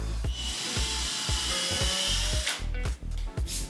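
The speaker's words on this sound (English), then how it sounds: "I love drilling into wood." Power drill boring into wood, a close high whine broken by rhythmic bursts of the bit biting, then a few short stop-start pulses at the end.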